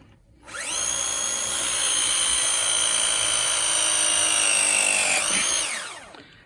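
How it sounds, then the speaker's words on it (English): A new hydraulic press gun crimps a pipe fitting during a Viessmann 111 boiler installation: one steady motor whine that holds for about five seconds and then winds down, fairly quiet and close. "Danny's now going to press that on with his new press gun"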